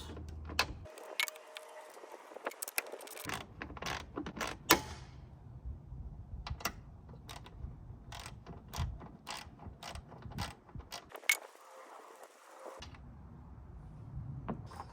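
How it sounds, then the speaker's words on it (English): A hood prop bolt is loosened and removed with a hand tool, producing a steady run of close ratcheting clicks and metallic creaks with short pauses and no talking. "So all you do is remove this bolt."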